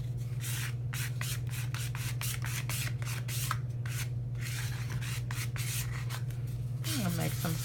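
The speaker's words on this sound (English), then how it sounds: "Now while this is still a little bit wet, I'm going to scrape it around a little bit." Wet paint being scraped around on a peel-and-stick paint chip makes repeated dry, rubbing strokes close up over a steady low hum, with a brief voice near the end.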